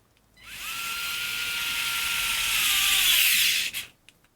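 A Craftsman 4V MAX cordless screwdriver runs under load in a torque test, giving a steady high-pitched motor whine for about three seconds before cutting off abruptly, with a faint click after.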